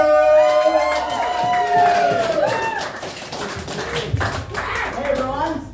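A live comedy-show audience claps and cheers loudly for a comedian taking the stage, with whoops and voices over steady applause that fades slightly toward the end.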